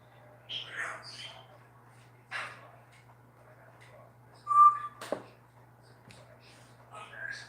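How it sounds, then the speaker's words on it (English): A pet bird indoors gives a few scattered chirps and one sharp whistle, fairly close but faint, over a steady low electrical hum with no talking. "I'm sorry, I do apologize for my bird."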